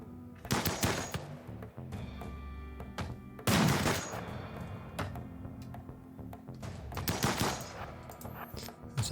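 Bursts of automatic gunfire in the colony-building game RimWorld crackle in rapid volleys, loud fusillades separated by quieter gaps with scattered single shots.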